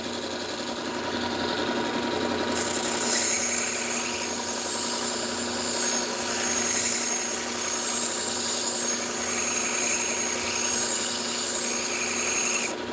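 A knife grinds steadily against a moving belt grinder for about thirteen seconds, a continuous, fairly loud abrasive whir and hiss that brightens after the first couple of seconds, with no talking.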